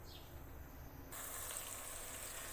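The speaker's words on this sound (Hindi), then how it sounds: "घी में करेंगे ऐड और इनको करेंगे फ्राई" Tomatoes frying in ghee in a pan give off a faint, steady sizzling hiss that grows noticeably louder partway through.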